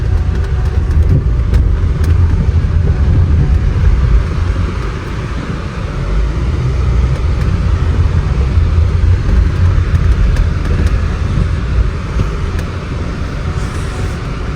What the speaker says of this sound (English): Oh boy, the vehicle is moving.